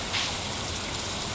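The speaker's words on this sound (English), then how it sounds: "It's raining?" Steady rain falls in the farming video game Stardew Valley, a soft, even, broadband hiss that fills the whole moment with no talking over it.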